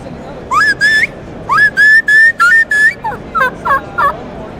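A double-reed diaphragm turkey call mimics a wild turkey: a run of shrill, whistled yelps in short bursts, close and loud, then a few quicker clucking notes.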